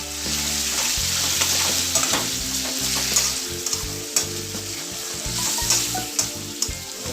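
Beef sizzling as it is sauteed in a pan for Chinese-style bitter melon in black bean sauce, with a steady hiss broken by clinks and scrapes of stirring.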